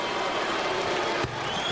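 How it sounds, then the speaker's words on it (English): Basketball arena crowd at a Bulls–Knicks game roaring in a dense, sustained wash of cheering and noise that briefly dips near the end, with no one speaking over it. "Oh, and you hear the reaction from the crowd."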